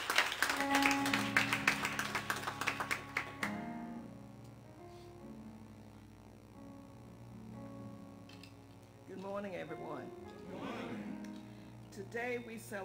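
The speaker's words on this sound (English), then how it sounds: "Let's give them a hand clap of praise as they come." A burst of many hands clapping together in a church congregation, dense and loud for a few seconds, then fading to a quiet hum before voices and music come in.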